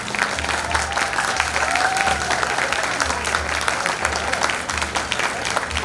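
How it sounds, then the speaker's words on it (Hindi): Loud, steady applause from an alumni meet audience welcomes the alumni association's joint secretary onto the stage, with a low hum running beneath the dense clapping throughout. "कैनेडी सर का स्वागत करें जोरदार तालियों के साथ।"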